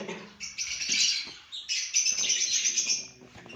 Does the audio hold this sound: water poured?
no